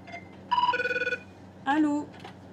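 A telephone ringing in an office-style setting: two short bursts of an electronic ring tone, the first warbling, the second a brief trill, with quiet room noise between.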